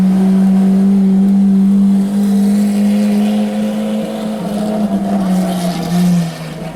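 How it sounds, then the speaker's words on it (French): A Lamborghini Aventador with a modified exhaust pulls away on a street, its loud, deep engine drone holding steady and then shifting pitch near the end. "Aventador qui part avec les échappements modifiés celle-là."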